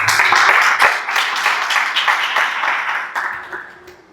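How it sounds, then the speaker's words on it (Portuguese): Church congregation applauding during a sermon, a dense crackling wash of many hands clapping at once that holds steady before thinning toward the end. "Você pode aplaudir Jesus?"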